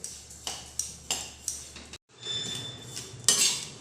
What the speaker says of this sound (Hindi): इसे अच्छी तरीके से भूनकर रेडी कर लेंगे